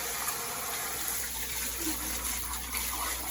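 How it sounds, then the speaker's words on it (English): Ten cups of parboiled rice being washed for jollof rice, with steady running, gushing water close by and no pauses. "I'm gonna wash it until the water is pure, like pure white, not milky."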